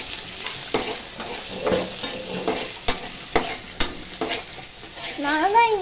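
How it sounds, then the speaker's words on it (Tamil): Capsicum fries in a pan while a utensil stirs and scrapes it in irregular strokes, a close, steady sizzle under the sharp stirring knocks, with no talking. "இப்போ நம்ம நல்லா ஃப்ரை பண்ணணும்."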